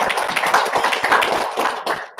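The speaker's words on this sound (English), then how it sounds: "Let's give him another round of applause." A crowd applauds a speaker at the close of an architectural acoustics talk, with dense, steady hand claps close by and filling the room for a couple of seconds before tapering off.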